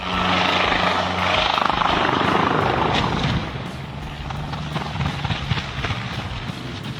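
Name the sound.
helicopter losing control in the air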